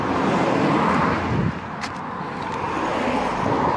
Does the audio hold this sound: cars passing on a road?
yes